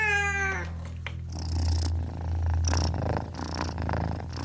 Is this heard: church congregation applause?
no